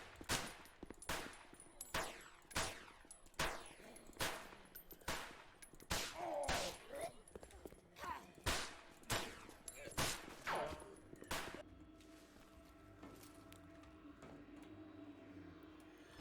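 Gunfire in the zombie survival video game Dead Matter: a rapid series of sharp, loud shots at a fairly steady rhythm for about eleven seconds, then quieter ambient game sound with a faint low hum.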